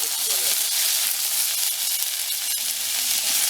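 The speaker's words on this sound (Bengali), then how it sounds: "বেগুন, কচু আর কুমড়ো তেলেতে ভেজে নিচ্ছি। ভাজা হচ্ছে।" Eggplant, taro and pumpkin fry in hot oil with a loud, close, bright hissing sizzle that holds steady throughout, broken by a brief stirring clatter near the end.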